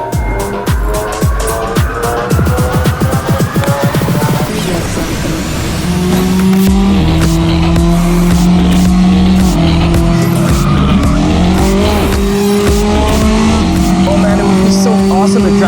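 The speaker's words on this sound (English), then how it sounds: "they have a 458 GT2 race car in this game" Ferrari 458 GT2 race car driven in a video game: a loud, close engine revs and shifts, with squealing, skidding tires and rising pitch as it accelerates, while people talk over it.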